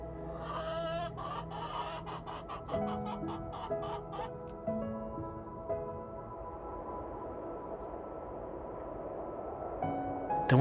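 Chickens clucking in a cold North Idaho winter setting, a cluster of overlapping clucks and a short crow-like call early on, fading to quieter background clucking, fairly faint overall.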